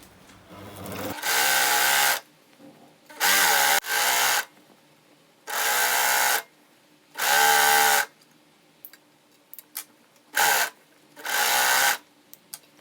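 Industrial sewing machine running a two-thread overlock hem on stretchy T-shirt jersey, stitching in six loud bursts of one to two seconds each with quiet pauses and faint handling clicks between them.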